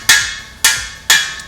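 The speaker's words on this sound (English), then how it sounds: "And we're just using a small ball peen hammer," A small ball peen hammer drives a plug into a Cadillac 390 engine block: three sharp, loud metallic strikes, evenly spaced about half a second apart, each ringing briefly, with no talk.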